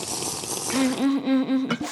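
Sea water is drunk in the Minecraft video game: a splashy wash gives way to four rhythmic, evenly spaced gulping sounds close up, then a brief final splash.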